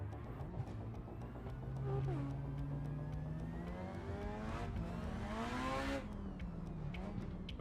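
Drift car engines rev and wail in a tandem drift, the pitch rising and falling in long sweeps with tire noise, loud and continuous over about seven seconds.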